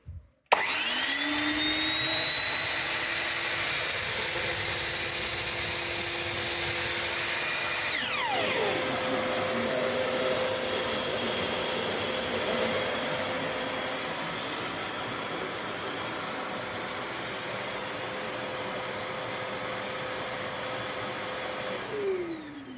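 A loud Vitals Master PS 3014SPsw construction vacuum drones steadily at maximum power for the whole stretch, with a saw's whine shifting pitch partway through, no voices present.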